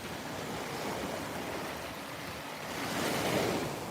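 Ocean surf rolls onto the beach at Fort Lauderdale, Florida, a steady broadband wash of breaking waves that swells louder near the end, with some wind, and no talking.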